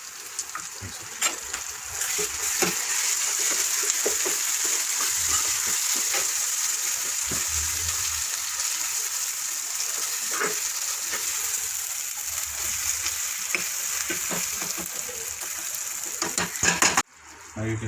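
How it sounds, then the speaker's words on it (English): Masala frying with oil, capsicum and a little water in a pan for a dragon beef fry, giving a steady loud sizzle and hiss throughout with occasional stirring clinks. "So the masala is fried very well."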